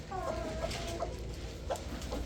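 A Lassani breed hen clucks close up in a few short, soft calls over a low background hum.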